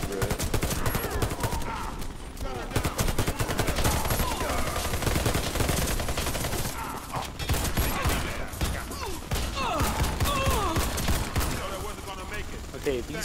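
Turret gunfire in the Warface video game on Nintendo Switch: dense, continuous bursts of automatic shots and fusillades run throughout, loud and close, with game effects and occasional talk mixed in.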